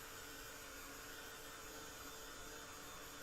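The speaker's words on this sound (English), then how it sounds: "Now I'm going to take my heat tool," A heat tool blows with a steady, even roar, drying a watercolor ornament card at close range with no speech.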